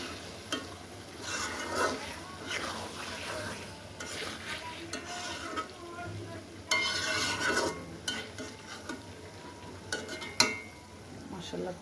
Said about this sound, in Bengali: একটু নাড়াচাড়া করে দিই, ধনেপাতার সাথে মিক্স করে দিই।